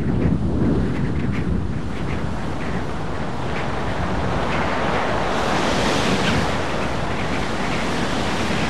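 Hurricane winds roar across a Caribbean coast as heavy surf crashes continuously, with gusts buffeting the microphone in a dense, unbroken wall of noise.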